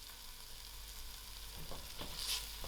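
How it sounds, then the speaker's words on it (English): Onion frying in oil with bay leaf and star anise for spicy lamb noodles gives a soft, quiet sizzle with a few faint crackles, close by and with no talking. "I will allow this to fry for a few seconds"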